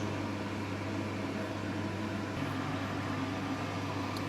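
A blender attachment whizzing tomatoes, a steady droning motor hum with a constant whirring tone, close and unbroken, no voices.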